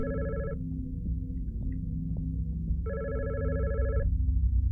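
Telephone in the horror game God's Basement ringing with two electronic bursts separated by a pause, clear and moderately loud over a low rumbling ambient hum.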